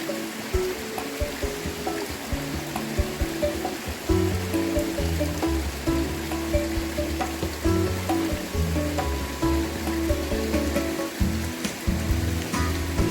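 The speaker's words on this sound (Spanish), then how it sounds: "Este salto tiene unos 10 metros de altura." A waterfall about 10 metres high in Los Alerces National Park, low on water in the dry season, gives a continuous rushing splash, with a low drone and faint music-like tones beneath.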